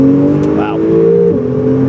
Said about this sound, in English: nice sounds out of that Soul exhaust